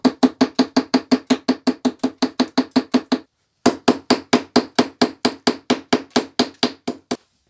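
A hammer knocks the flux coating off a welding electrode in a fast, steady run of loud, close, ringing strikes, about four per second, pausing briefly midway before continuing.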